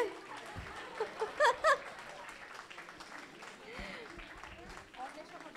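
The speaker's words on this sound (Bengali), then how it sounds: "সৌমির জন্য জোরে হাততালি।" Audience applause at a Bengali music performance event: scattered clapping beneath ongoing chatter and voices, with a few louder, sharper bursts near the start.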